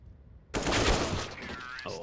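MAC-10 gunfire in a Counter-Strike match during a pro league playoff: a sudden loud rattling burst of rapid shots that cuts in, stays dense for about a second and thins out, with a caster's voice faintly around it.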